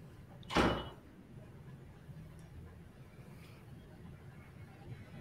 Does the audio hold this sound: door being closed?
yes